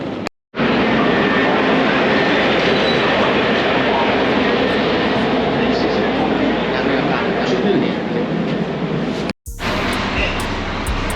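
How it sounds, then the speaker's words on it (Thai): A constant loud rumble and roar of a riding elevated metro train fills the clip, briefly cut twice, with voices faintly underneath. "ตอนนี้เราก็ลงจากรถไฟฟ้าแล้วครับ"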